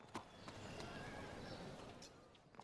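A sturdy horse whinnies in a long, shrill neigh over a steady outdoor background, with a few hoof clops mixed in, moderately distant and fairly faint.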